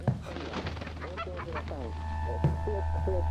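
A chicken clucks in the Japanese horror video game Hollow Cocoon, giving a run of honking, squawking calls over a steady low hum and a sustained tone, ending in a few sharper cries.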